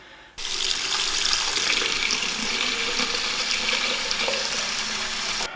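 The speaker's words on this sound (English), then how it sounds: "then we will save that chemical into this jar, and then we are washing the film" Tap water gushes steadily into a sink while color slide film is washed during home development, starting abruptly after a short pause and running loud and close with no voices.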